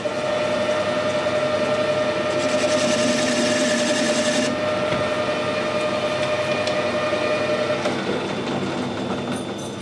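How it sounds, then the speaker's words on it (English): A lathe or machine tool hums steadily while cutting a chamfer onto the end of a threaded bolt in a workshop. A brighter cutting hiss rises for the first few seconds, then the machine keeps running alone. "All I want to do is put a chamfer on the end of the bolt."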